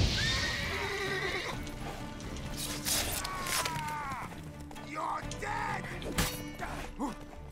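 A horse in The Witcher 3: Wild Hunt neighs repeatedly with rising, falling whinnies amid hoof clatter, impacts and combat noises during a fight with deserters.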